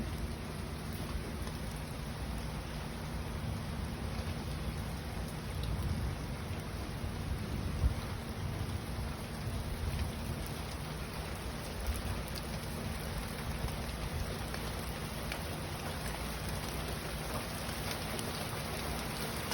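Steady rain pouring down, a constant dense hiss of drops hitting surfaces, unbroken and moderately loud throughout with no voices.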